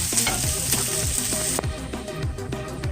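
Chopped onions sauté in a hot pan, giving a dense, continuous sizzle with repeated scraping strokes from stirring. Faint tonal sounds run underneath, and the hiss drops slightly partway through.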